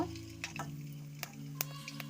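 Dried red chillies, cardamom, cinnamon and cloves frying in oil in a wok give a quiet sizzle with scattered sharp ticks and crackles and a low steady hum beneath.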